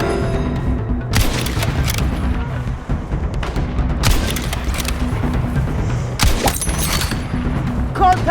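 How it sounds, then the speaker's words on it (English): Machine gun fire in the video game Battlefield RedSec, heard as loud bursts of rapid shots and booms over continuous battle noise, with a voice calling out between volleys. "Contact! Enemy machine gun!"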